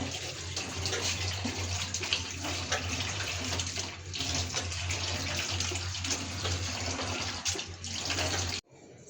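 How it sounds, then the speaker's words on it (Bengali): Tap water runs steadily and loudly into a sink while pots and pans are washed, a continuous splashing stream that cuts off abruptly near the end. "কবিতার মা হাঁড়ি পাতিল মাছতেছে"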